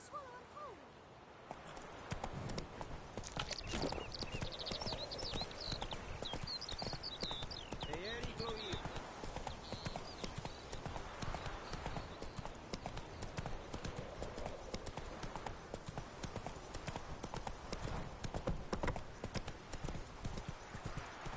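Roach the horse from the video game Witcher 3 clip-clops along at a steady walk, hoofbeats continuous and close for the whole stretch, with a voice speaking over them.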